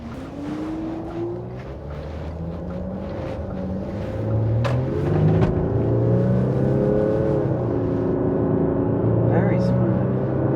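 A car driving on the road after a 90,000-mile refresh and a diesel fuel additive test, its engine droning steadily with rising and falling tones as it accelerates, fairly close and continuous.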